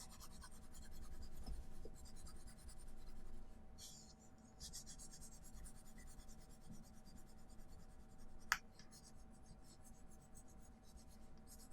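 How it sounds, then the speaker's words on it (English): A 4B pencil shades a portrait on paper with a steady, soft scratchy rubbing that runs on continuously, faint and close, with a couple of small taps. "I'm using the 4B pencil to do this."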